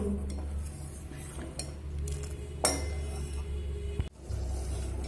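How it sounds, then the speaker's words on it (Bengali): Sago pearls cook in a pot while being stirred, with a spoon clinking and scraping against the metal and a low steady bubbling hum underneath, one sharp knock near the end. "এইভাবে নেড়ে নেড়ে আমি সাবুটা রান্না করে নেব"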